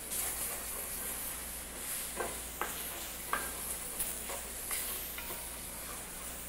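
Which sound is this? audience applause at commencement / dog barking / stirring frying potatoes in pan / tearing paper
stirring frying potatoes in pan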